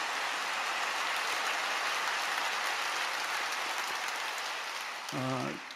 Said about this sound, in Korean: 우리 감사 영광의 박수 한번 올려드리겠습니다